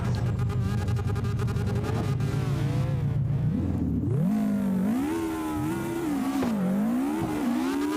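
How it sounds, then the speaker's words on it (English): A car does a burnout at an open practice session. The engine holds steady at high revs, then climbs and wavers in loud repeated revving surges with a harsh tire-squeal texture, all close and continuous. "Is it okay if I can do a burnout?"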